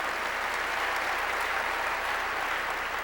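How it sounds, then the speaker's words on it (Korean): Church congregation applauding together, a steady, even wash of clapping that holds at the same level throughout with no speech over it. "박수로 하나님께"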